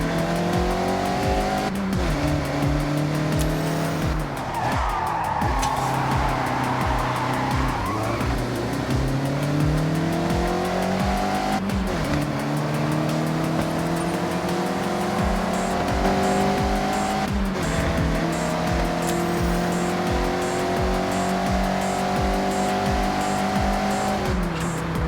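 A Mazda MX-5 in a Forza Horizon racing game drifts through corners, its engine revving high and shifting steadily while the tires squeal and skid almost without pause.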